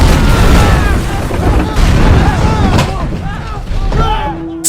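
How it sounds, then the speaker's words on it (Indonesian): Heavy explosions and gunfire from a naval battle, with torpedoes striking a patrol boat, form a dense, loud, rumbling barrage. Sharp blasts burst through, and a voice talks over the din. "kapal patroli mereka pun benar-benar dihujani torpedo dan tembakan dengan sangat brutal"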